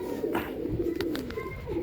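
A Star Kalanka pigeon coos softly and close, a few low rolling calls with faint chirps, fairly quiet against a light background.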